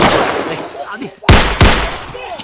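Two loud, sharp gunshot bangs about a third of a second apart, following a stretch of muffled shouting voices.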